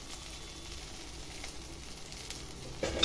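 Semolina snack mixture frying in a pan, giving a faint, steady low sizzle throughout with a brief clatter near the end.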